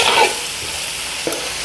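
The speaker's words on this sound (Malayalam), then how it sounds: "സവാളയും കൂടി ഇട്ട് നമുക്ക് മൂപ്പിച്ചിങ്ങെടുക്കാം" Onions with a pinch of salt fry and get stirred in a pan while cooking kappa and beef curry, a steady close sizzle with a few scraping stirs.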